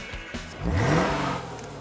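A Jaguar XKR sports car engine revs up with a rising growl, then settles into a steady, throaty hum nearby.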